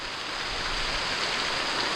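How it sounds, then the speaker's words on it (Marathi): Sudden monsoon rain falls on a Konkan village as a dense, even hiss that stays loud and close throughout, with no voices. "पाऊस आला बघा ते पावसाचं गावाकडे हे असं आहे अचानक येतो"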